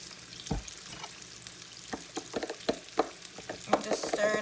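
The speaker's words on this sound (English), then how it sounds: "And just stir it up. Make sure it's nicely mixed." Syrup and sriracha being stirred together into a sauce for chicken and waffles, making soft scattered clinks and scrapes of a utensil against the bowl, close and quiet, with irregular taps and no talking.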